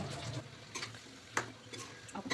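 A spatula stirs potatoes, eggplant, flat beans and dried loitta fish in a pan, giving faint, sparse scraping and clinking taps with a low sizzle underneath.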